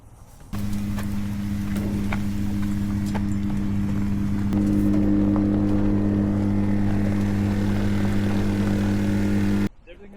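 A small airplane's propeller engine idles low and rough, a steady droning hum with strong harmonics that shifts upward midway and cuts off abruptly near the end; faint talk sits beneath.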